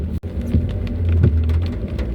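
Steady heavy rain drums on a car during a typhoon road trip through the Alabang hills, with low rumbling swells like distant thunder near the middle and a brief dropout early on.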